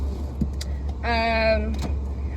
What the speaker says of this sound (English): I'm about to get hot again because all the windows are coming up